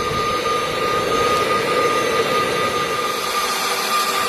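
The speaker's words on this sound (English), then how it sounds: "so now we'll turn the air on, and hopefully we'll get to a forging heat relatively quickly" An air blower on a knife-making forge roars steadily and loudly as a constant broadband rush with a faint tonal whine, unchanging throughout with no talk.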